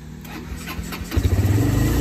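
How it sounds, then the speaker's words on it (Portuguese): A Honda Titan 160 motorcycle engine cranks and catches, settling into a steady, throbbing idle close by with no talking. "Vamos ligar a moto aqui, ó."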